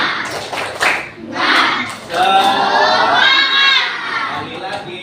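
Schoolchildren in a classroom perform a rhythmic clapping chant, loud shouted voices mixed with bursts of clapping, rising and falling in energetic waves.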